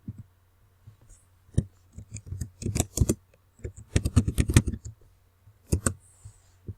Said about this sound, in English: In Google, you need to type just like this, DIY skills.